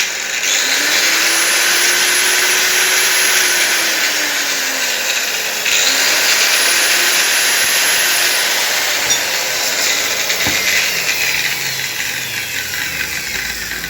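A repaired angle grinder with freshly replaced gears runs steadily and loudly on its own, a continuous high whine with a brief dip partway through as it spins up again.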